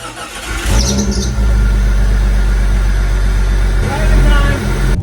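A car engine fires up and settles into a steady, loud idle with a deep low rumble, close by; a brief higher whine appears near the start as it catches.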